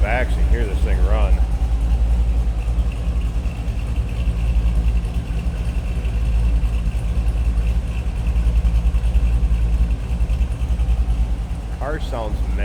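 A 2003 Chevrolet Corvette Z06 with its 5.7 liter LS1 V8 runs at a steady, deep idle heard from behind the car, loud and continuous, with brief talk near the start and end.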